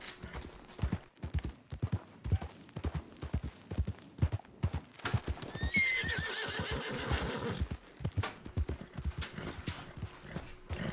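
A horse in Red Dead Redemption 2 whinnies loudly mid-clip amid steady clip-clop hoofbeats on the ground, the hooves continuing throughout.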